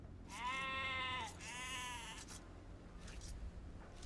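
Sheep in the Age of Empires 2 video game on Xbox, giving two clear wavering bleats in quick succession, then a fainter third, over a low game ambience.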